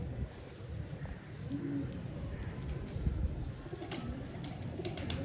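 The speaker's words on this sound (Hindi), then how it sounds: "ये कबूतर आज हमने पकड़ा है" A caught golden pigeon coos softly, low repeated murmuring calls rising over a busy outdoor background with faint chirps, no voices.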